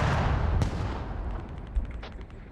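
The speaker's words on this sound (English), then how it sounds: "And mortars now." Mortar fire in a war video game: a loud, heavy boom opens and slowly rumbles away, followed by fainter distant thuds and crackles in the background.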